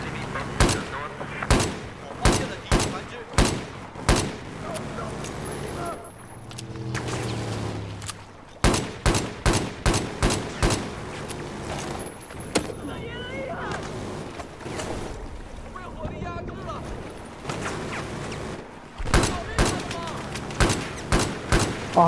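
Rapid gunfire rings out in the video game Battlefield 4: bursts of sharp, loud shots in quick succession, with short pauses between volleys and people talking over the action.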